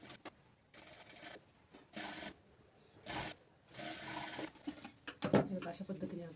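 A sewing machine stitches a blouse seam in short bursts of rapid mechanical whirring, separated by pauses, with a person talking quietly in between.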